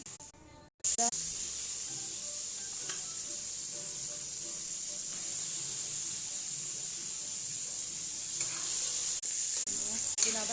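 Onions fry with masala in a pan for a capsicum masala dish, a loud steady sizzle with stirring scrapes throughout after a short quiet start, no talk.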